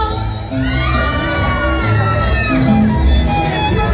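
A large concert crowd yells together in a sustained, loud, overlapping shout that rises and holds, many voices blending into one long cry.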